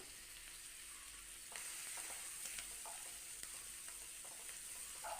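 Finely chopped onions frying in a pan give a soft, steady sizzle with faint stirring scrapes, the hiss swelling a little partway through and staying low and close.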